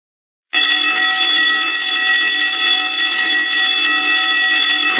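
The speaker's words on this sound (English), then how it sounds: "Why is the fire alarm triggered?" A pulled fire alarm sounds indoors, a loud, sustained tonal electronic ring that starts abruptly after a brief silence and holds steady without a break for several seconds.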